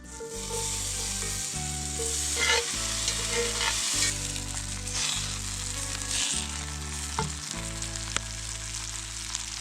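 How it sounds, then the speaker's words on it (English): Tomatoes cooking in butter in a pan over a campfire, a loud continuous close sizzle with occasional crackles and a low steady hum underneath, no voices. "Got our butter cooked a little bit, so now we're going to add our tomatoes, cook them down for a bit"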